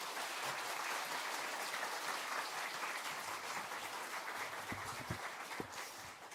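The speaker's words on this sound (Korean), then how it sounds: "자, 박수해 주세요." A church congregation at Sunday worship applauds as the pastor comes forward, a steady, thick wash of many hands clapping continuously, fairly distant and even throughout.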